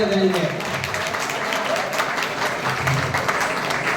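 An audience claps after a Bharatanatyam dance performance at a temple, a dense steady patter of applause that holds for several seconds, with some voices mixed in underneath.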